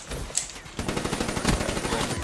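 Rapid automatic gunfire in Call of Duty Black Ops 3, a quiet lead-in with one sharp crack, then a dense, continuous burst of shots that keeps going to the end, with someone shouting faintly under it.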